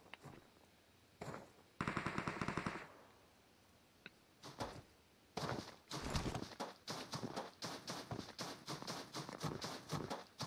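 Gunfire in a battle royale video game: bursts of rapid automatic shots, one short volley early and then a long sustained stretch of repeated firing, loud and close with only brief pauses.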